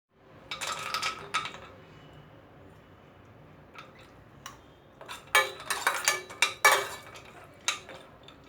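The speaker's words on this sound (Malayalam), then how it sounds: "നമുക്ക് അണ്ടിപ്പരിപ്പും കിസ്മിസും ഒന്ന് വറുക്കാം." Cashews and raisins roasting in ghee in a pan, with scattered metallic scrapes and clinks of a spoon against the pan in short bursts, quiet gaps in between, and a faint sizzle underneath.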